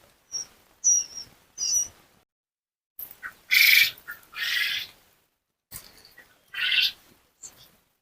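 Thirty-day-old quail chicks give loud, sharp chirping bursts in short clusters, separated by brief silent gaps, close at hand.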